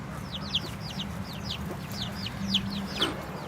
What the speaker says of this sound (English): The little chicks are out here enjoying the sunshine.